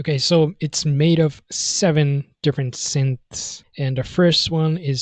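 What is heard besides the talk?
None of the usual background noises is heard.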